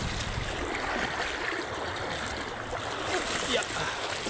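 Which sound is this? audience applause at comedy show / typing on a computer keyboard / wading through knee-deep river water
wading through knee-deep river water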